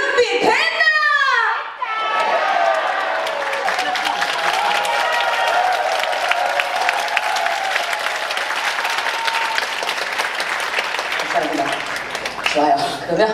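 A concert audience at a Korean trot music show claps and cheers loudly and steadily for over ten seconds, with children's voices mixed into the crowd noise.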